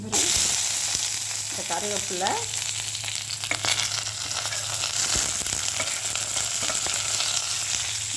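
Urad dal, curry leaves and onion frying in oil for a cabbage stir-fry give a loud, continuous sizzle with occasional stirring scrapes and a low steady hum beneath.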